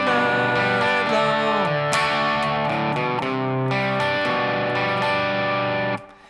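Distorted electric guitar plays the chorus riff of a song, loud and close with chords and bends for about six seconds before cutting off.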